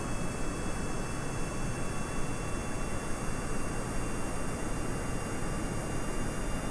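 Aircraft engine in a flight video game during an attempted landing, a steady, loud broadband roar with a constant whine throughout and no break in level.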